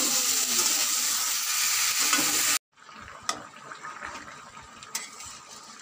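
Spices being sautéed together in a pan for a fish curry with drumsticks, a steady broadband sizzle and stir that cuts off abruptly partway through, followed by quieter scraping and occasional sharp clinks close by.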